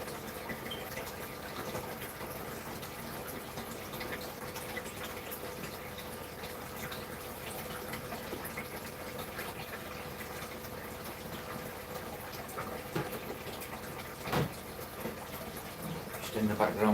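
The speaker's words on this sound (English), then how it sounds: "Just in the background getting fish water ready." Tap water running steadily into a container for a fish tank, a continuous watery rush with faint talk in the background and a couple of brief knocks near the end.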